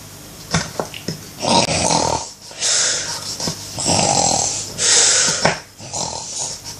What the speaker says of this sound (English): why does he snore all the time?